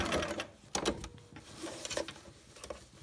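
A sewing machine stitching back and forth to reinforce the corner of a fabric mask, a few short mechanical bursts of stitching separated by brief pauses, fairly quiet and close.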